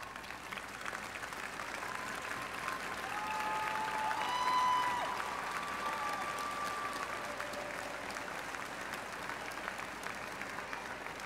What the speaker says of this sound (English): allow the students to give you a round of applause